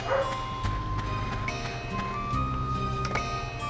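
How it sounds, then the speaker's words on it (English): Dog barking in the Dark Cloud 2 video game, a handful of short, sharp barks spaced irregularly over a background of game music. "The dog won't stop barking."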